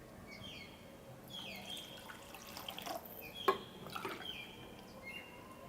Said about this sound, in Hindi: अब इनमें आप 2 कप पानी डाल दें।